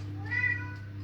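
A house cat wanting to go outside gives one short, soft meow indoors over a steady low hum, with no talking.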